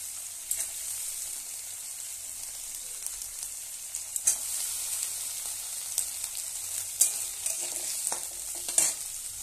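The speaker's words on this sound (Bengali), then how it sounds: "দেখো এগুলো একটু হালকা করে ভাজবো আমি।" Food is fried lightly in a pan, making a soft, continuous sizzle with occasional sharper crackles and stirring taps, close and fairly quiet.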